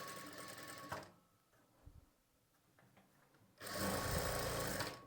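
A sewing machine stitches along the edge of the main fabric folded over a lining, running loudly in a fast buzzing burst, pausing through a quieter stretch with small handling sounds, then starting again at full speed.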